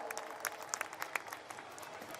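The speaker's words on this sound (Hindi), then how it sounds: "जोरदार तालियां।" An outdoor cultural festival crowd claps for a while, a loose, moderately distant patter of applause with some individual claps popping out and faint voices underneath.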